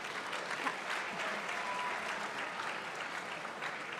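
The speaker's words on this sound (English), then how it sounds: "Let's give everybody a big round of applause for that." A school audience claps for sophomore class presenters: dense, steady applause from many hands, loud and continuous throughout with no pauses.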